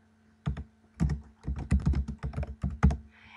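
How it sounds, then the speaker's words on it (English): Keys on a computer keyboard are pressed in a quick, irregular run of close, crisp taps, about a dozen keystrokes over three seconds with no speech. "You will give your blog post a title, and you will type text in the body."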